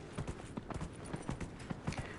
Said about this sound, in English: We're going to giddy up and gallop.